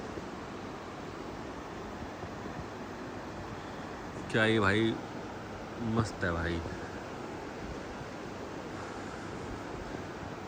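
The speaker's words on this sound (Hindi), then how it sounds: "भाई, ये तुम पानी की आवाज़ सुन पा रहे हो?" A river near Jim Corbett rushes with a steady, broad flow of water throughout, and someone speaks briefly over it partway through.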